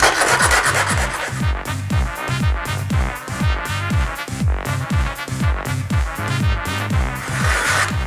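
Loud, rhythmic scraping of a soda can rubbed back and forth against a rough paving stone, each stroke a harsh grinding rasp in quick, even succession.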